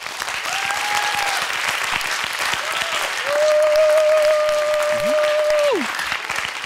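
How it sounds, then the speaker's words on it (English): An audience at a youth science seminar applauds steadily after a research presentation, with a dense, continuous clatter of clapping that swells briefly and carries on under a faint voice. "Even more applause to Felix and Alex for applause."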